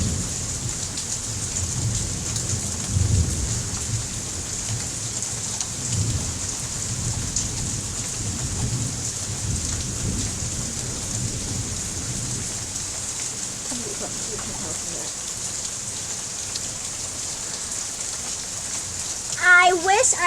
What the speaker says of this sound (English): I'm just gonna leave you in awkward silence where you can hear the thunderstorm.